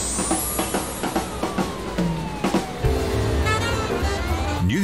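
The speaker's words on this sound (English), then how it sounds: "accompanied by the sound of constant car horns, wailing sirens, and a cacophony of general noise" A siren wails and sweeps over dense city traffic noise, with a steady roar of engines and passing vehicles close by.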